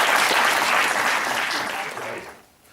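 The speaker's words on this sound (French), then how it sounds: "On peut applaudir David, s'il vous plaît?" An audience at a magic show applauds a volunteer, a loud sustained wash of clapping that tapers off and fades out near the end.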